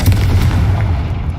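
Bombarda and Confringo explosion spells going off in a Harry Potter video game, a loud, continuous low rumbling boom that fills the whole moment with no voices over it.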